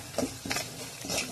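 Spices being stirred into onions frying in a pan for pav bhaji, three scraping strokes over a soft sizzle, close and fairly quiet.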